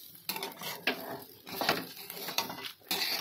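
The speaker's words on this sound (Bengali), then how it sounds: "তো এখন হচ্ছে পোলাওটাকে আমি একটু হালকা করে ভেজে নিচ্ছি।" Rice for pulao, mixed with chopped carrot, being lightly fried and stirred in a pan, with soft scraping, clinks and a faint sizzle in short irregular strokes.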